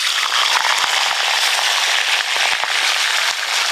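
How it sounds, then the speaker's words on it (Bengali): Hilsa fish heads frying in hot oil, a dense, loud, continuous sizzle and crackle with scattered sharp pops throughout, no talk. "প্রথমে ইলিশ মাছের মাথাগুলো ভালো করে ভেজে নেব"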